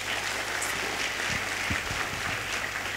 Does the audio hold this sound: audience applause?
yes